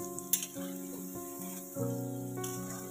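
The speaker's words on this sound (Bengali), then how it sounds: "ওকে মিডিয়াম ফ্লেমে দিয়ে আমরা আস্তে আস্তে নাড়াচাড়া করে করে ভাজবো" Rice dumplings, puli, fry over a medium flame in hot oil, giving a soft continuous sizzle beneath a steady tonal hum, with a few brief clinks.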